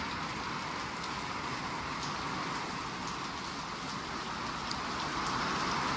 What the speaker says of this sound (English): as you can see, the rain is coming down pretty good right now